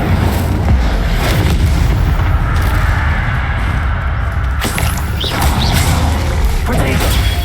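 Incendio fire spells are cast in combat in Hogwarts Legacy: loud bursts and booming crashes of magic over dense battle noise, with no pauses between hits.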